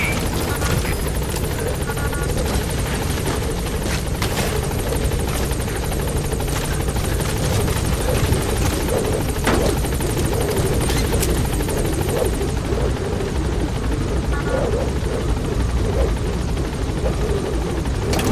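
A helicopter approaching a landing zone in Metal Gear Solid V, its loud, continuous rotor thrum and engine whine filling the scene with little variation.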